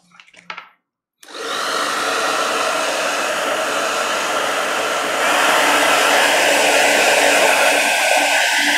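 A hair dryer switches on after a short bit of faint noise and blows steadily and loudly over a watercolor painting of trees, its whirring roar rising slightly in pitch partway through, with no talk.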